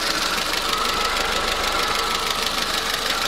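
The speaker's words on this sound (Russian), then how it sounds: "Слушаю, как работает мотор." A car engine runs at idle before a long road trip, giving a steady, fairly loud mechanical hum with a faint rhythmic knock beneath it.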